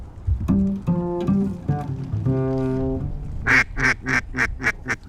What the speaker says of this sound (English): Right here, big duck on my right.